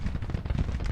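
A rapid rattle of musket volleys from enemy troops in the Grand Tactician Civil War battle game, dense overlapping cracks and thuds packed into a brief burst of sustained gunfire.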